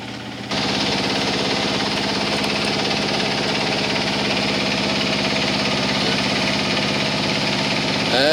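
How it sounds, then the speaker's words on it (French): A sailboat's motor drones steadily and close, a low, even mechanical hum with faint rumbling texture that runs without pause after a brief quiet start. "là maintenant on a remis le moteur pour arriver tranquillement"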